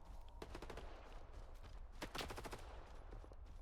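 Rapid bursts of automatic gunfire in the video game S.T.A.L.K.E.R. 2, clustered volleys of sharp shots in a firefight with a loud peak midway, against steady game ambience.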